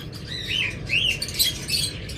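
Pet birds of a DNA-confirmed split ino pair chirp and tweet in quick, bright repeated calls over a steady low background murmur, fairly close and moderately loud.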